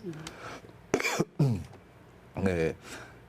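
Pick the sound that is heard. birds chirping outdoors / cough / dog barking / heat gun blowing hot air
cough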